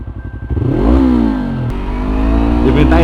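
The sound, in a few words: motorcycle engine revving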